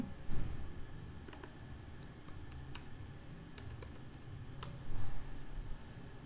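An npm command is typed on a computer keyboard. A few soft, scattered key clicks sound close by in an otherwise quiet room, with no talking.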